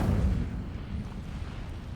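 An Incendio fire spell is cast in the Hogwarts Legacy video game, giving a short, loud, low burst of fiery whoosh and rumble that fades slightly but keeps roaring, with no voices.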